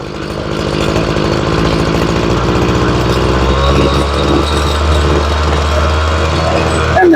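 A Ryobi weed eater's small two-stroke engine revving after carburetor and fuel line replacement and tuning, a loud buzzing whine that climbs from a lumpy idle to a sustained high-rev scream, close up.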